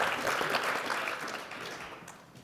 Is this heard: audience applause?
yes